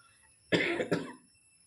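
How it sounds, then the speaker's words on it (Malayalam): Two quick, harsh coughs close to the mic, one right after the other, with quiet before and after. "അപ്പം തുടങ്ങും കേട്ടോ വീണ്ടും ചുമ"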